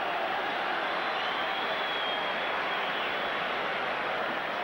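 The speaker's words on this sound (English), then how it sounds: "Tremendous applause there from the Rangers fans" Rangers fans in a packed stadium at the 1993 Scottish League Cup Final applauding a player's arrival, a broad, even roar of clapping and crowd noise heard from a distance, steady throughout.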